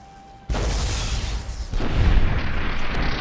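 A cannon in Fallout New Vegas fires with a sudden deep boom, followed by a rumbling blast that swells again a moment later, loud and close.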